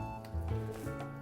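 Dumplings called byeongsi are dropped into boiling broth, making a steady bubbling simmer with soft splashes close by, no talk over it.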